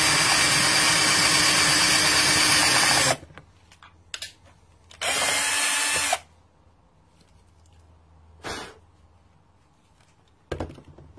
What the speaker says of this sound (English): let's drill some holes and put this thing together.